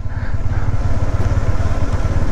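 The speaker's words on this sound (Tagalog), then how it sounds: "Kung aakyatin mo to, ubusan ng hininga yung motor." A motorcycle engine labors loudly and steadily up a steep mountain road in Benguet, its low throbbing drone close and continuous with no voices.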